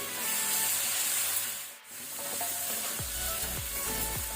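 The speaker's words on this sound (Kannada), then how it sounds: "ಶುಂಠಿ ಬೆಳ್ಳುಳ್ಳಿ ಪೇಸ್ಟ್ ಸಹ ಒಳ್ಳೆ ರೀತಿ ಫ್ರೈ ಆಗಿದೆ" Ginger garlic paste frying in a pan while Spring Onion Prawn Masala is being cooked, giving a steady close sizzle with scraping and stirring strokes and a brief dip partway through.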